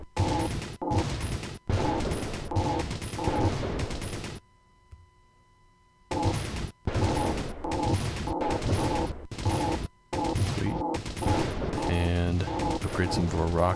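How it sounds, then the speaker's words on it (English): Mortar towers firing in the Robo Defense tower-defense game: repeated loud, dense bursts of explosive thumps and crackling impacts in rapid rhythm, broken by a brief quiet gap, with game effects continuing steadily throughout. "let's get some mortars up"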